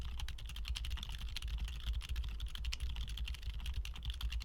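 Steady, dense typing on a keyboard fitted with Silent Bluish White tactile switches, a soft, muted patter of keystrokes that runs without pause and with no voices.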